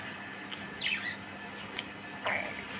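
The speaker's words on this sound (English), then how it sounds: "so here are those birds" Pet birds chirp indoors in a dim room, a few short bright calls scattered over about three seconds against a quiet background hiss, with no talking.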